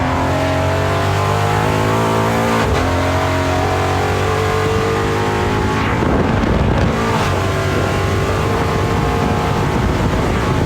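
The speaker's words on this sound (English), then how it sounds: "Listen to that exhaust." The exhaust of the Lightning off-road vehicle roars loudly and continuously as it runs at around 100 mph through the desert, a sustained droning engine note with shifts in pitch, mixed with heavy wind rush.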